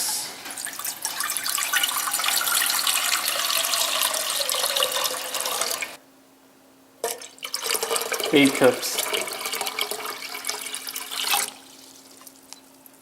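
Tap water runs steadily into a cooking pot for rice, a continuous hissing stream that stops, restarts and then cuts off, with a voice speaking briefly over it.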